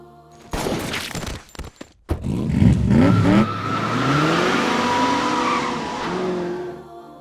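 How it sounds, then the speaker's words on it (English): A car starts with a few short clattering bursts, then the engine revs up into a loud, sustained roar that holds steady before easing off near the end. "a car starting"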